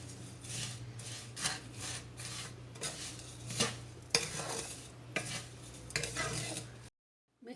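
Ground coconut being stirred into vermicelli in a pot, a spoon scraping and rasping against the metal in repeated strokes, with a steady low hum underneath and no voices; the sound cuts off abruptly near the end.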